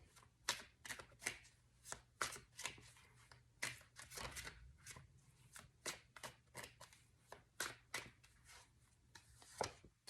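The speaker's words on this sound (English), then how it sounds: "I'm trying to shuffle these." Tarot cards shuffled by hand in a steady run of crisp riffling snaps, close and fairly quiet, with a faint low hum underneath and no talk.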